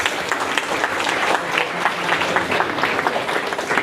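Steady applause from an audience at a college hackathon event as a team is called to stand, dense continuous clapping throughout with no voice over it.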